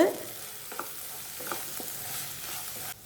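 Spices being stirred in hot oil in a pan for a peanut kara kuzhambu, with a low, steady sizzle and a few soft scrapes of the spoon at intervals, alone with no talk.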